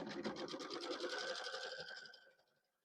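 Sewing machine stitching a seam on a fabric placemat, a rapid even mechanical chatter running close and loud before slowing and stopping near the end.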